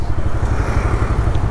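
A Honda SB125 motorcycle rides by close ahead, its steady low engine thrum continuous and fairly loud throughout, with no talk over it.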